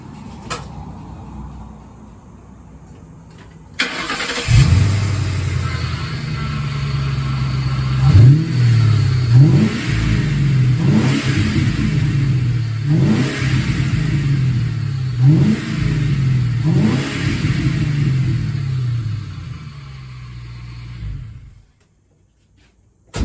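A Ford F100 truck fitted with a swapped Crown Victoria engine starts up and idles with a deep rumble, then takes a series of repeated revs before cutting off abruptly.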